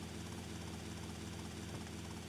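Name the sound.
helicopter in video game GTA Vice City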